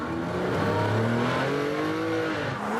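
A Ferrari P4/5 by Pininfarina driving onto a track, its engine note rising and falling in steady revving tones with a faint squeal, loud and close throughout.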